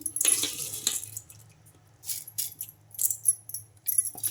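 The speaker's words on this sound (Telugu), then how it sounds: "ఇప్పుడైతే మిక్సీ జార్లోకి అయితే వేసుకుంటున్నాను బియ్యాన్ని" Drained, soaked rice tipped into a metal mixer-grinder jar, making several short bursts of gritty pattering and light metallic clinks, close by and separated by brief pauses.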